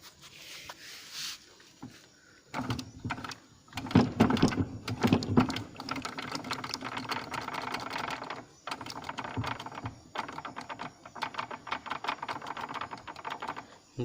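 Bolts being fitted during assembly of a Scorpio gearbox in an automotive workshop: dense, rapid clicking and tapping runs almost nonstop, close and moderately loud, with brief pauses between bursts and no talking.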